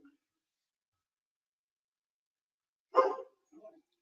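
One short bark rings out in near silence, followed by a fainter second yelp a moment later.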